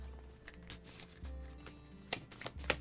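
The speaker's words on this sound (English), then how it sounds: "Alright, so let's shuffle these up." A deck of peril cards from the Sleeping Gods board game is shuffled in soft, brief riffling bursts and taps, quiet and close, with a sharper flurry near the end.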